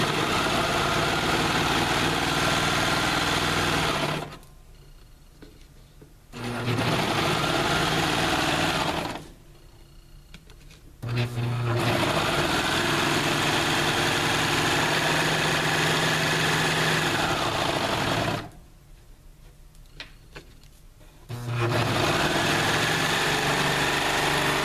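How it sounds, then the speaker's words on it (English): A serger sewing machine stitches along the fabric ends of a backpack panel in three long, loud bursts of steady high-speed whirring, separated by short pauses where it stops. "you are serging the 2 ends"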